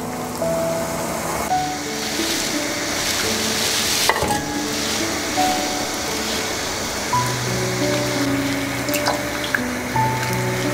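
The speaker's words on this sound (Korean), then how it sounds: "끓는 물에 지금 낙지가 들어갑니다" Water bubbles and hisses steadily in a boiling pot, with splashy stirring and a sharp clunk partway through as an octopus goes into the pot.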